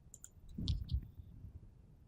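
Two soft, close mouse clicks on an OK button in booking software, following a faint tick and standing over quiet room noise.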